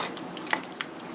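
Tomato sauce with basil, onion, garlic and salt being stirred in a pot, a soft simmering sizzle with faint scraping clicks of the spoon, quiet and brief.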